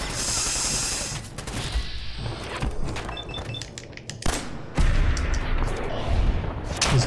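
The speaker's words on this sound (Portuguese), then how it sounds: "Ela aterrou logo com a granada." Grenade blast and gunfire in the Fallout wasteland, a dense rumbling clash of booms and shots with a sharp heavy impact about two thirds through, loud and continuous throughout.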